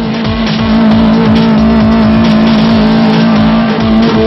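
Off-road vehicles climbing steep hills and driving through mud, their engines roaring loud and close in a steady, continuous drone with repeated revving surges.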